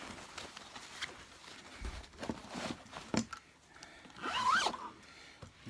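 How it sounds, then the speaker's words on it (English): A zipper is drawn closed on a Kirby G3 vacuum's cloth bag, one quick rasping zip near the end after quieter handling rustles, close up with no talking. "Zip it up."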